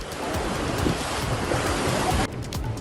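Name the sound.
water rushing out of Bargi dam after heavy rain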